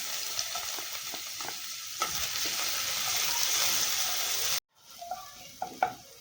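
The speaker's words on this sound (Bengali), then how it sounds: "আমি ফোড়নে জিরা ঢেলে দিলাম। রসুন থেতো করে রেখেছি, সেটা দিয়ে দিলাম।" Cumin seeds and crushed garlic sizzle steadily in hot ghee for a palak paneer base, a dense close frying hiss with small pops and spatula scrapes, cutting out briefly before resuming with sharper crackles.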